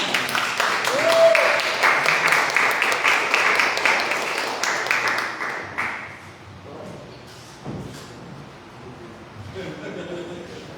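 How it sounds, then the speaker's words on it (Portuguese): A church congregation applauds to welcome the apostle, a loud, dense burst of clapping for about six seconds that then fades away, leaving quieter room sounds and a voice starting to speak. "quero que você aplaude o Senhor recebendo o nosso apóstolo"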